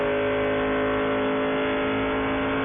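A race car cruises down the front straight at Daytona during a 14-hour endurance race, its engine a loud, steady, sustained drone held at even revs without shifting.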